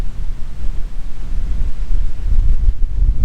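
Strong wind buffets the microphone on a lakeside hiking trail, making a continuous loud, low rumbling roar that swells and gusts without any voices.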